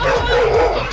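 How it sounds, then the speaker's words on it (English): Several dogs bark aggressively and continuously at close range, loud, overlapping yips and growly barks with no pause. "can hear the dogs, very aggressive"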